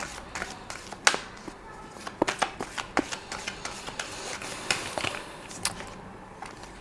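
Tarot cards get shuffled by hand in a run of quick, irregular riffles and soft slaps, close and fairly quiet, with no talking.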